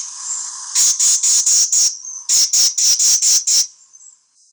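A Carolina wren gives a raspy call, two quick runs of five harsh, buzzy notes separated by a short pause, close and clear against a quiet background.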